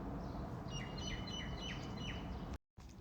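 Small bird chirps repeatedly on a balcony, a quick series of high faint tweets over a steady low background rumble, followed by a brief dropout.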